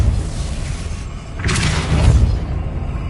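A Depulso spell goes off in a Hogwarts wizarding video game as a deep, rumbling boom with a brief whooshing burst at its start, loud over a low steady game background.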